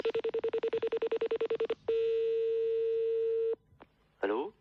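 A telephone is dialed: a quick run of about sixteen evenly spaced tone pulses, then a long steady ringing tone, a brief click and a short burst of voice at the end.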